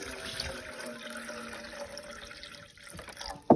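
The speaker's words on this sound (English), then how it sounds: "We'll start with 2 cups of water here." Water is poured into a cooking pot, two cups for Spanish rice at a reservoir raft campsite, a steady faint liquid rush with background noise, ending in a brief louder splash.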